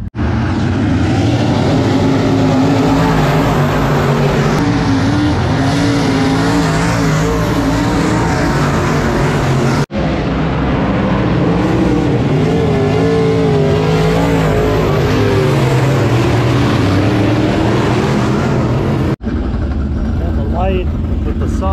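Dirt track race cars, including modifieds and a roll-caged PT Cruiser, roar continuously around a Friday night oval, a loud sustained engine drone with passing surges, mixed with crowd and announcer noise.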